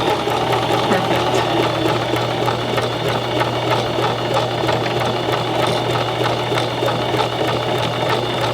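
A sewing machine stitches fabric with a continuous close whirring hum and fast, regular stitching ticks that run steadily throughout without pause.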